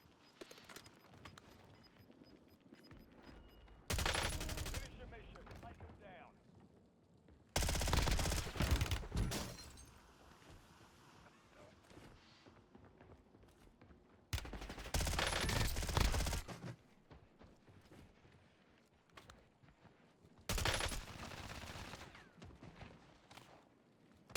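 A PPSh submachine gun fires in a video game, fitted with a suppressor. Four loud, rapid full-auto bursts of a few seconds each are separated by quieter pauses.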